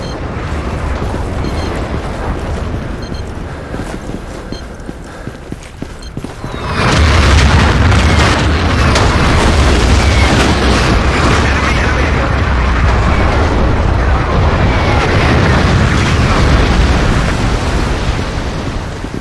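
Artillery explosions in Battlefield 2 arrive as one sudden heavy boom that gives way to a long, loud, sustained roar of blasts and rumble, with radio chatter over the battlefield noise before it.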